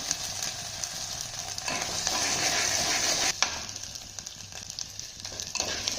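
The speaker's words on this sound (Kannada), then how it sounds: "ನಾನು 2 ಮಿನಿಟ್ಸ್ ಫ್ರೈ ಮಾಡಿಕೊಂಡು ಈಗ 1 full spoon ginger garlic paste ಹಾಕೊಂಡಿದ್ದೀನಿ." Ginger garlic paste frying in a pan, a continuous close sizzle with stirring scrapes and a clink of the spoon partway through, loud and steady without talk.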